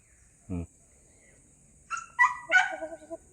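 A short, low call and then a few higher-pitched crowing bird calls from a derby-winning gamecock rooster nearby, with quiet gaps between them.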